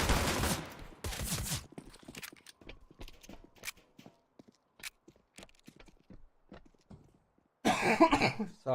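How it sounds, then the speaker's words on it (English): A person coughs in a short cluster of loud coughs at the start, followed by sparse clicks and small noises, with another burst of coughing near the end. "A little bit of a cough."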